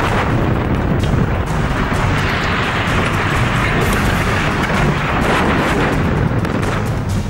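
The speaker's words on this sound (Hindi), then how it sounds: "इराक में बगदादी के आतंकी गढ़ मोसुल पर अमेरिका ने बार बार बम बरसाए" Heavy bombardment over Mosul, Iraq, during airstrikes: a dense, continuous rumble of distant explosions and booms runs loudly throughout, with no clear single blasts standing apart.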